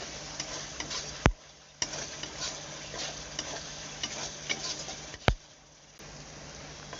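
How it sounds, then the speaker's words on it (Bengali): Poppy seed and cashew paste is stirred into a prawn and pointed gourd curry, with a quiet sizzle, soft scraping and two sharp clicks. "এবার দেব পোস্ত আর কাজু বাদাম বাটা, ভালো করে একটু নেড়ে নেব।"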